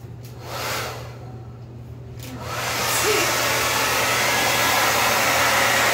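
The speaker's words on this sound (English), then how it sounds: "Should I hair dry it? I could hair dry it." A hair dryer blows on wet acrylic pour paint, a steady breathy whoosh that rises and stays loud after a few seconds of softer handling noises, with no speech.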